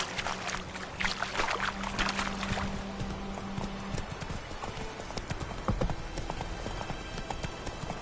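Horse hooves clip-clop at a steady walking pace in The Witcher video game, close and continuous, with faint ambient sounds and a short low tone beneath.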